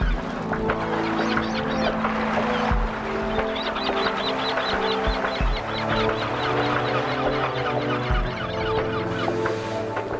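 A giant petrel calls with repeated harsh, honking cries over a dense, continuous chorus of similar seabird calls, loud and close for the full stretch.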